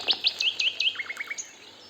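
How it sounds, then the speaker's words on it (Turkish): Bright, high-pitched bird chirps in a quick series, about a dozen close, clear notes over two seconds, with no talking. "Kuşlar cıvıl diyor, ötüyorlar."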